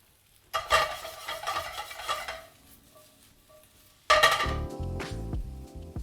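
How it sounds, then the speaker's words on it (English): Mushrooms stirred and pushed around in a hot frying pan, two bursts of scraping and sizzling with clinks of utensil on metal, the second louder and sharper. "You can just get this all into a pan, get it moving, get it going."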